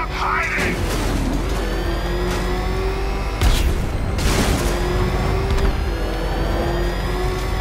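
Heavy booms and rumbling blasts from Batman: Arkham Knight roll over a constant engine drone, with the loudest impact about midway through.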